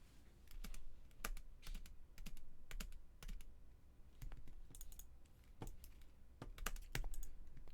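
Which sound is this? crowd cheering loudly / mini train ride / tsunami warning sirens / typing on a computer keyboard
typing on a computer keyboard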